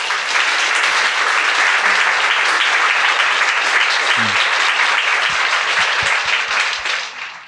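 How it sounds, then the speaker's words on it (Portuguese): A literary festival audience at a Jewish museum panel applauds a guest, with a full, even roar of many hands clapping that holds steady and thins at the end, a few low thumps scattered near the close. "Então, palmas para a Flávia, por favor."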